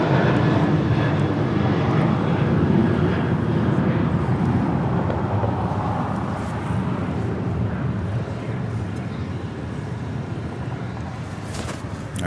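Airliner departing runway 25 right at LAX, a strong continuous jet roar with deep rumble that slowly fades as it moves away, with brief crackles near the end.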